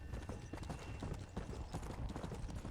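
Video game horse galloping: steady, rapid clip-clop hoofbeats that run through the whole moment at an even loudness, tightly spaced and unbroken, with no voices over them.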